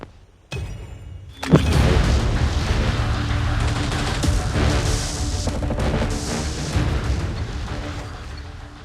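Loud, dense gunfire and booming explosions from a COD Mobile multiplayer match, starting with a sharp blast and then carrying on as a steady, near barrage of shots with no talk.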